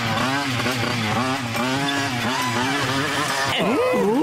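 A cartoon motorbike, a specially built model, revs and speeds up in the animated show Motu Patlu, its engine note whining and rising in pitch, loud and continuous throughout.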